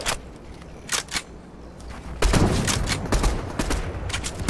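Gunfire in a video game, with a sniper rifle involved: several sharp cracks early on, then a heavy, sustained blast and rumble with further scattered shots.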